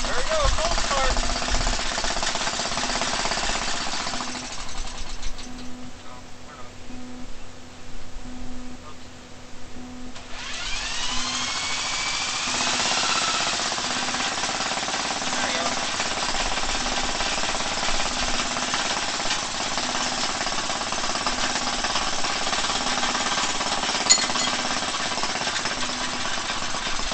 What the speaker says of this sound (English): There we go, cold start.